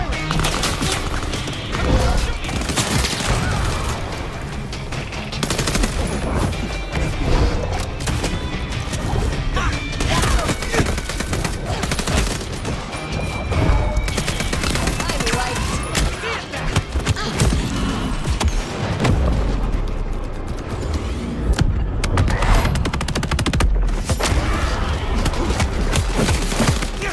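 Gunfire and crashing impacts from the video game Vampire the Masquerade Bloodlines 2, a dense, continuous barrage of loud shots and smashes running the whole time, with occasional voice mixed in.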